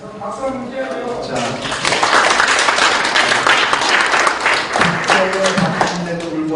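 Audience applause at a forum on judicial reform, moderate clapping swelling in the middle while people talk over and around it throughout.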